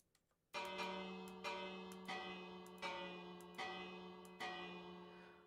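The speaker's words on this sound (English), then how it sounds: "the heavy bell went on from 6 to 7, and from 7 to 8, and regularly up to 12" A heavy church bell strikes the hour with six loud, evenly spaced strokes, each resonant clang ringing on and overlapping the next before the following blow.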